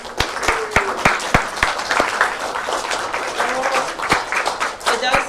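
Scattered hand claps and applause ring out from a small group at a university game jam presentation, sharp individual claps repeating over a murmur of voices.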